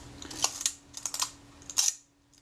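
A Reflex S camera with a faulty shutter that does not fully close is fired several times, giving small close mechanical clicks and brief whirring bursts in an irregular pattern over a faint steady hum.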